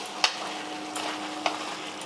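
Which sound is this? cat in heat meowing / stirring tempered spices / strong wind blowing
stirring tempered spices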